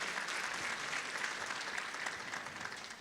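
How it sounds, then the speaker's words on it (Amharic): An audience at an award ceremony applauds the recipients, a dense, steady crowd clapping that carries on throughout and eases off slightly at the end, somewhat distant and without talk over it. "ለተሸላሚዎቹ እንኳን ደስ አላችሁ ብላችሁ አጨብጭቡልኝ።"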